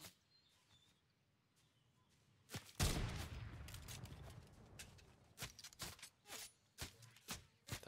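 Gunfire crackles in Fortnite: faint quiet moments give way to a sudden close burst, then a rapid string of separate sharp shots at an uneven pace.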